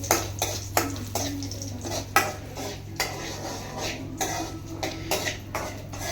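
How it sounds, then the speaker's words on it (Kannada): Cashews, raisins and almonds fry in a pan on a low flame for rava laddu, with a spatula scraping and stirring in repeated close strokes over a steady low hum. "ಗೋಡಂಬಿ, ದ್ರಾಕ್ಷಿ, ಬಾದಾಮಿ ಈ 3ನ ಫ್ರೈ ಮಾಡ್ಕೊಳ್ಬೇಕು ಚೆನ್ನಾಗಿ."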